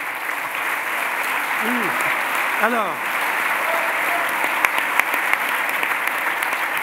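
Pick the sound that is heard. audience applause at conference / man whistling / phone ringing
audience applause at conference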